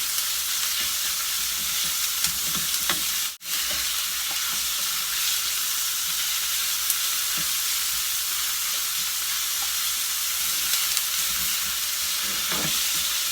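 Ground meat fries in a pan for fried rice with a steady, even sizzle and hiss that runs alone throughout, broken by one brief dropout and a few faint stirring taps.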